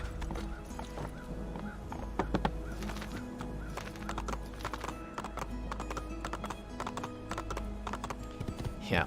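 Hooves clip-clop in a fast, steady rhythm as a horse gallops in the Assassin's Creed 2 video game, with game ambience underneath.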